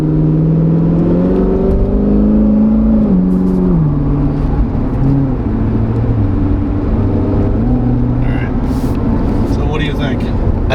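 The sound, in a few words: Corvette Z06 engine revving with 95mm ported throttle body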